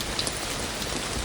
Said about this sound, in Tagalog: Ba't ang lakas ng ulan?